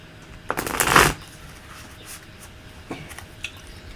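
Tarot cards are shuffled in one loud riffling burst, followed by a few faint taps and small handling sounds in a quiet room.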